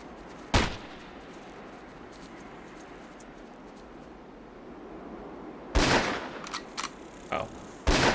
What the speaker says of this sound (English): So why are they shooting like crazy?